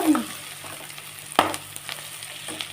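Cucumber and potato curry frying in a pan, a steady soft sizzle with a brief sharp clatter of stirring midway, close and alone.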